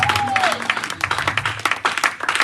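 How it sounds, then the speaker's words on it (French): A church congregation at a Bible seminar claps in quick, rhythmic unison, loud and close. A brief voice is heard at the start. "Acclamons les rois."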